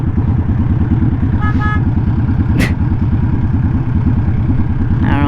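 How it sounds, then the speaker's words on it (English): Brief car horn toots sound near a rider on a Honda Shadow motorcycle, over the loud, steady, rhythmic putter of the cruiser's engine. "I don't know what he was honking at."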